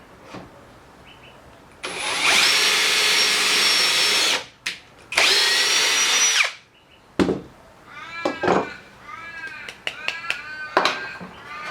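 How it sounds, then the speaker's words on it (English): A power drill whirs in two loud bursts of a couple of seconds each while boring pocket holes in wood, followed by scattered clicks and higher-pitched squeaky noises. "drilling all of the pocket holes and screwing my support pieces and my legs together"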